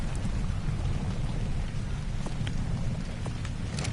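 Steady heavy rain in the survival video game Ark Ascended, a dense continuous hiss with a low rumbling roar underneath and a few sharper drop ticks, loud and unbroken with no voices.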